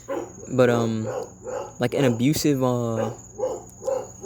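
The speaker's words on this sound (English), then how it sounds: "I'm sorry about that barking" A dog barks in bursts behind someone talking steadily in the foreground, the yelps fairly close and loud enough to break into the speech.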